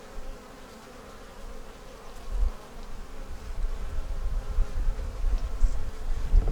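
Honey bees buzz around a hive checked after a storm, forming a dense, continuous drone close by that swells slightly louder toward the end, with no talk.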